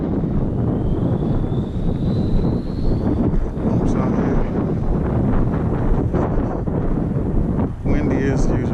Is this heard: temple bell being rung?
no